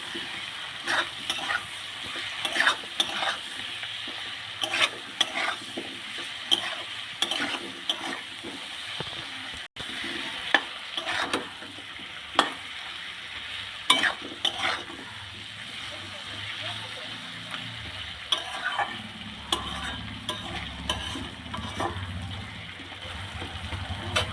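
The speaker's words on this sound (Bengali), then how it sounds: "মশলা দিয়ে আলু আর পেঁয়াজটাকে ভালো করে কষিয়ে নেবো" Potatoes and onions frying with spices in a pan, stirred steadily: a constant sizzle broken by frequent sharp spatula clacks and scrapes against the pan, close and fairly loud, with scattered soft voices in the background.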